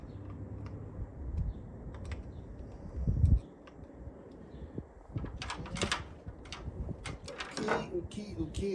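Screws being snugged down on a Holley 94 carburetor for a Ford Model A, a run of small scattered metallic clicks and taps close by, with a louder thump partway through and some low talk underneath.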